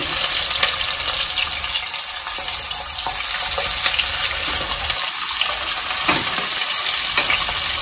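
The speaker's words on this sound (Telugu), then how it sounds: "so onions light brownish colour వచ్చినంత వరకు బాగా వేసుకోవాలి" Chopped onions fry in oil in a pan for a chicken curry. A steady, loud, close sizzle runs throughout, with faint scraping and clinks from stirring and no voices.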